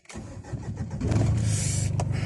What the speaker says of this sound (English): so I'm going to start the car and drive the car for about 5 minutes just around the block